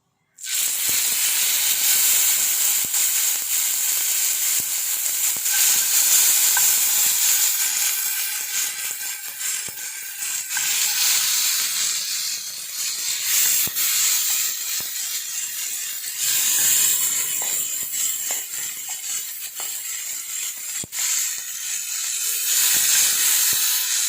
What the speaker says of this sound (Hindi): तेल गरम होला न। एटा माछ पकामी।